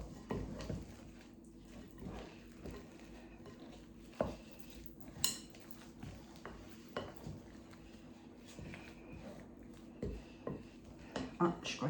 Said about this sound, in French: Maintenant, je vais rajouter la morue. Voilà. Je vais bien mélanger.